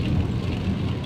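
A sudden heavy downpour of rain, a dense, steady roaring hiss with no breaks, loud and close.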